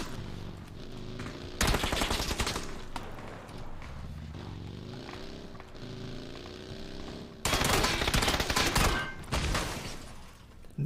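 Gunfire in PUBG, two loud sustained bursts of rapid shots standing out over quieter game ambience and faint voices between them.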